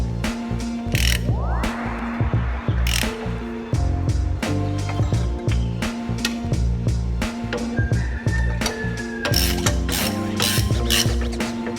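A ratchet works bolts on a BMW M10 engine being installed, making loud, close, bursty pawl clicking in repeated runs with brief pauses and some metallic clanks, and no talk.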